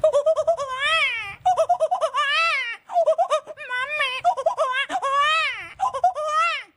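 A boy imitates a crying baby, his voice producing repeated rising and falling wails in rapid bursts with short pauses between them, close and loud.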